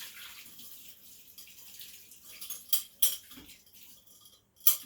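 Glass kefir jar washed under a running tap, a steady faint stream of water with soft splashing and a few sharp glassy clinks near the end.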